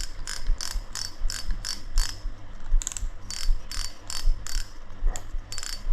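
A Shimano FX 3000 spinning reel's drag gives off rapid, crisp ratcheting clicks in repeated bursts, close up and fairly quiet, some runs quicker than others, with no voices.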